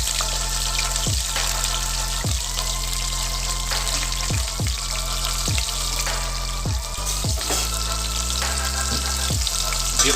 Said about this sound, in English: Then I'm going to quickly add green chili and